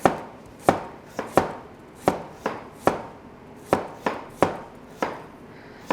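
A kitchen knife thinly slices vegetables on a cutting board for mille-feuille nabe, about a dozen crisp, close chops in an uneven steady rhythm, with no talking.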